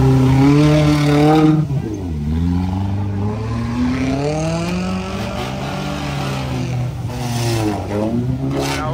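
A Lada Niva off-road car engine revs hard during an off-road sprint race, its pitch sweeping up and down in repeated surges, loud and close throughout.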